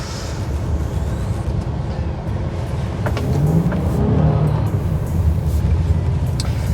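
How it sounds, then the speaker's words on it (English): A minivan engine revs while the van does donuts, a steady throaty roar that swells louder midway and holds, close and alone with no talk. "Because even minivans can do donuts."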